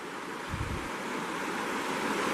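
Water rushes steadily through a small offshoot of the Cispus River at a summer campsite, a continuous broadband wash close by and unbroken, with no voices.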